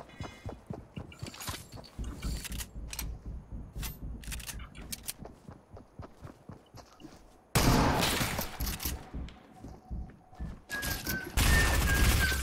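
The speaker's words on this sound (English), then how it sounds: "Three people started to shoot at me." Rapid gunfire from Fortnite crackles in bursts of sharp, closely spaced shots, with a louder, denser volley breaking out partway through and more heavy fire near the end.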